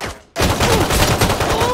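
Dense, loud gunfire in a video game after a brief quiet moment, with shots packed into a sustained burst of reports and noise for over a second.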